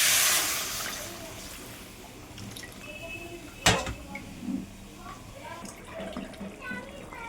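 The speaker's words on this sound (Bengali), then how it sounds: "যে গরম জল করে রেখেছি, গরম জলটা দিয়ে দিলাম" Hot water poured into a pan of frying cauliflower with turmeric, starting with a sharp sizzling hiss, then gentle bubbling, clinks and liquid sounds; a voice is faintly audible in the background.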